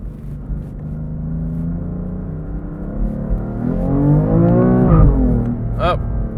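A BMW F80 M3 CS accelerates hard from inside the cabin, its engine note climbing steadily in pitch with rising induction noise and a loud rumbling swell before easing off, then a brief snarl.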